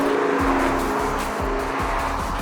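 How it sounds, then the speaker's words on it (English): Supercars with V6, V8 and V10 engines sweep past one after another, loud swelling engine notes rising and falling as each passes close by, with tyre noise under the roar and no voices. "The sound show that follows, courtesy of those highly strung 4-cylinder V6, V8 and V10 engines, is unlike anything you'd expect in this neck of the woods"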